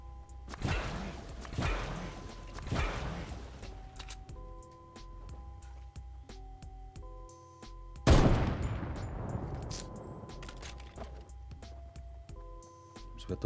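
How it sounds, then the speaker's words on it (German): Gunfire in the Fortnite video game, several sharp cracking bursts and single shots spread across the clip, moderately loud with short gaps between volleys and no talk over them. "Es wird da ballert. Irgendwo wird da ballert."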